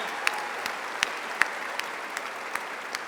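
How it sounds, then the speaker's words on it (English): A commencement audience at Western Carolina University's spring graduation ceremony breaks into a round of applause, a steady wash of clapping with a few sharper individual claps standing out, moderately distant and filling the whole hall. "That deserves a round of applause."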